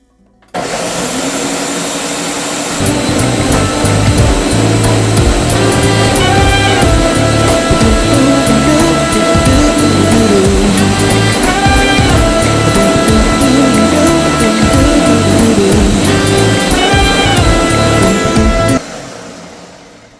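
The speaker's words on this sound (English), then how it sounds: "and then I'm going to blend." A blender blending limes with water roars at high speed for about eighteen seconds, loud and close, its motor pitch wavering slightly before cutting off abruptly.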